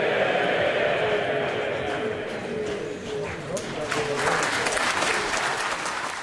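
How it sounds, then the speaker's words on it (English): Sustained applause fills the House of Commons chamber after a minister's resignation speech, a dense, steady clatter of many hands that swells slightly toward the end, with a voice faintly audible beneath. "The irony of that applause"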